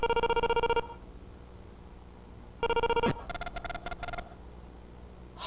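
Electronic telephone ringing in the Portopia Serial Murder Case video game, a bright synthetic ring burst, a pause, then another ring followed by quicker pulsing tones, with no talk.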